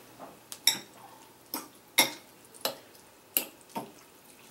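Spoon clinking against a pot of chicken pho while lime is mixed in, a string of light metallic taps and scrapes at an irregular stirring rhythm, close and fairly quiet.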